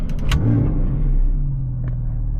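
A 2018 Porsche 911 GTS Cabriolet (991.2) starts up with a sharp crank and a quick flare of revs. It then settles into a deep, steady idle rumble, close and loud.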